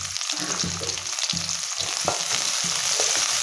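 Onion and green chilli fry in hot oil with a steady, close crackling sizzle, broken by repeated low scraping and stirring knocks from a spoon in the pan.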